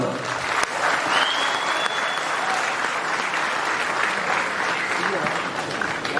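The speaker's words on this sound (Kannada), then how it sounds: "ಇವ್ರಿಗೆಲ್ಲರಿಗೂ ನೀವೊಂದು ದೊಡ್ಡ ಚಪ್ಪಾಳೆಯನ್ನ ಕೊಡಬೇಕು" Sustained applause from a large audience at a Kannada film industry celebration honouring Kiccha Sudeep's 25 years in films, dense and continuous with crowd noise and voices mixed in.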